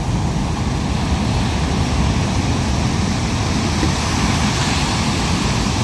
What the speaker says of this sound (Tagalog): Grabe ang alon, lalaki oh.